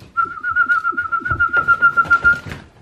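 A steady, sustained human whistle holding one pitch for over two seconds, with soft background rustling and faint thumps underneath.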